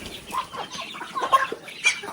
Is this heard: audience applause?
no